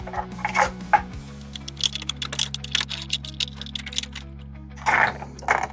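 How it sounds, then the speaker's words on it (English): Removing a hex standoff from a Stern King Kong Pro pinball machine with a 1/4-inch wrench and Phillips screwdriver: close, quick metallic clicks and ratcheting ticks in short irregular bursts over a low steady hum. "So let's remove this hex standoff. 1/4-inch wrench and a Phillips."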